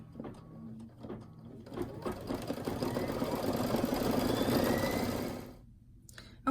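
An embroidery sewing machine whirs and clicks as it stitches out a snowman design. The motor builds into a steady rapid stitching hum, then stops abruptly, with a few faint clicks before and after.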